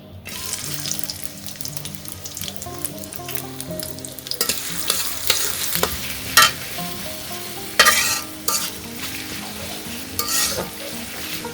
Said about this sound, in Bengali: পেঁয়াজটাকে ভেজে বেরেস্তা করে